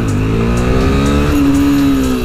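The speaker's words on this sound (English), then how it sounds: "Notice I'm chasing the wheelie still. I didn't full throttle it." A motorcycle engine revving on a sunny ride while the rider attempts a wheelie, a loud close engine whose pitch climbs and holds in a smooth rising whine over about two seconds, with no speech.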